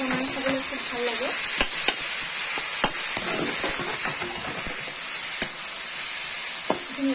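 Ingredients for chicken gravy, including whole garlic cloves, frying in hot oil: a loud, continuous close sizzle with intermittent sharp clicks and scrapes of a stirring spoon against the pan.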